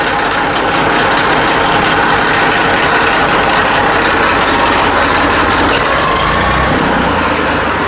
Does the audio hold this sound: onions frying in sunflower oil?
no